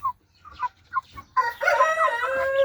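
Mixed-breed Brahma chickens cluck in short soft calls, then a rooster lets out one loud, drawn-out crow close by.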